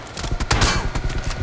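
Rapid bursts of video game gunfire crack in quick succession, loud and close, with a rattling, uneven rhythm.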